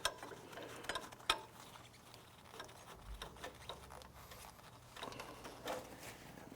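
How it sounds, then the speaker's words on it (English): Faint quick clicking of a 3/8 ratchet with a stubby socket spinning a 17 mm nut off a vehicle's rear airbag bracket, a few sharp metallic taps and rattles mixed in, close and quiet with no talking. "use a 3/8 ratchet with a stubby socket if you have it. It's, again, 17 mil"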